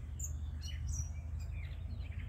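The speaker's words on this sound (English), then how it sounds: "pick out all the different bird types that are calling out here today" Several wild birds chirp and call faintly at a distance along Crosswicks Creek, scattered brief tweets over a low outdoor rumble with no voices.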